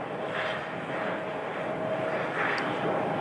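A Boeing 737-800 airliner from San Diego at Phoenix Sky Harbor airport, a steady distant engine rumble and whine holding evenly throughout, heard from the ground with no talking.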